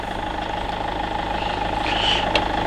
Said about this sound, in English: Engine idling over perfectly.